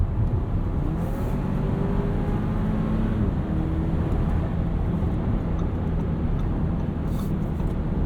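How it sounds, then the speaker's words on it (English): A 2021 Audi Q5 SUV engine drones steadily at high revs while cornering, with road rumble, continuous and fairly loud throughout, no voices. "Keeping the revs high around a corner here."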